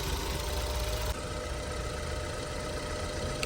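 The 2.0 EcoBoost engine of a 2014 Ford Escape idles fully warmed up, a steady, even mid-pitched hum with a faint rhythmic ticking, close and moderately quiet with nothing else over it.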